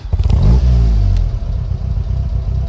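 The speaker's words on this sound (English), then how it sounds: "Starts nicely and settles down to a nice idle." A 1956 Triumph TR3 engine fires up with a loud rev and clattering rumble, then settles into a steady, throbbing idle close by, with no talk.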